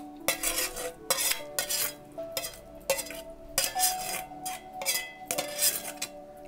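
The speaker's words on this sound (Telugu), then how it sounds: "దీన్ని మనం ఈ మజ్జిగలో కలుపుకుందాము" A spoon stirs cooled tempering into buttermilk for majjiga charu, with a rhythmic series of clinking, scraping strokes against the vessel and a faint sizzle underneath.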